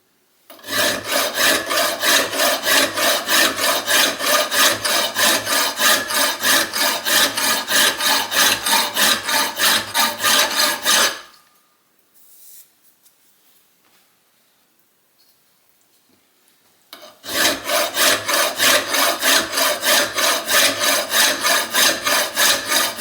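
A hand file rasps rhythmically across metal lugs for the boiler bands of a steam locomotive, loud and steady, strokes pausing for several seconds before resuming at the same pace.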